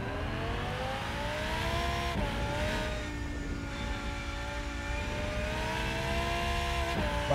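A race car engine in the Rennsport racing video game holds a steady loud drone, its pitch rising and dipping with gear changes and revs, without pause.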